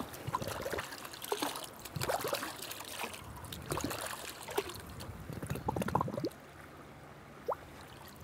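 Creek water from the North Fork of Catfish Creek trickles and gurgles into a sample bottle, close up, in uneven splashy bursts, then goes quieter near the end.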